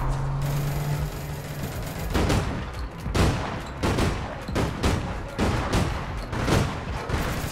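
Bursts of gunfire crack and rattle in the online shooter APB Reloaded, with dense, repeated volleys and single shots coming close and loud through most of the stretch and no talk over them.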